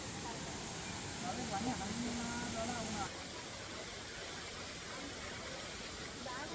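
A waterfall on the Sathuragiri hill trek pours with a steady, even rush of water, a soft continuous hiss heard from some distance that barely changes throughout.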